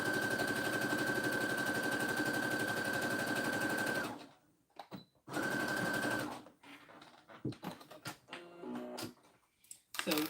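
A sewing machine stitches down a fabric tissue holder in a fast, loud mechanical run of about four seconds. A brief pause follows, then a shorter burst of two seconds, then scattered handling clicks and rustles.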